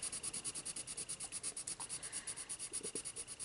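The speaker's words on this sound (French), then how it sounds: "je vais quand même prendre mon blender pour bien mélanger" A colour pencil blender rubbed back and forth on paper while colouring a dragon drawing, giving a steady rhythmic scratchy stroke sound, close and fairly quiet with no talking.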